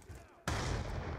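A sniper rifle shot in Call of Duty Black Ops 2 team deathmatch, a single loud sharp crack that jumps out of quiet background noise and rings on briefly.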